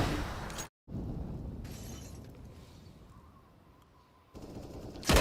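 Gunfire in a Counter-Strike esports match: dense, close bursts of shots and crackling impacts, a brief cut to silence, then a quieter stretch before the shooting surges again at the end.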